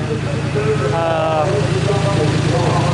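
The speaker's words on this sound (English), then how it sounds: "very loud cars right there" A loud race car engine idles at a speed shop pit area during an amateur racing event, a steady low rumble while people talk over it.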